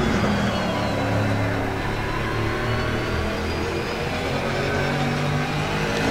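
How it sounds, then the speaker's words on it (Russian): A 2019 Aston Martin race car's engine drones steadily throughout in Assetto Corsa Competizione, a loud, continuous in-car roar with shifting harmonics and no breaks. "Астон Мартин, на котором я сейчас еду"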